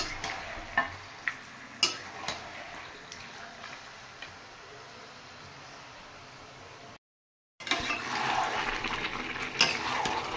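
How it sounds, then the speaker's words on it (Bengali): Chicken pieces stir-fried and browned in a pan for a home-style deshi chicken curry, giving a steady sizzling hiss with a few sharp scrapes and clicks of the spatula, moderately close and with no talk. "ভালো করে মাংসটা কষিয়ে নেব"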